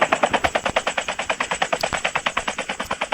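Rapid, steady automatic gunfire from the video game Call of Duty, loud and close, a continuous stream of evenly spaced shots with no talking.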